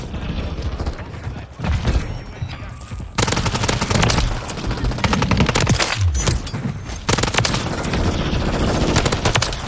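Rapid automatic gunfire in Call of Duty Modern Warfare 3, loud dense bursts of shots with short gaps between them, plus scattered game sounds.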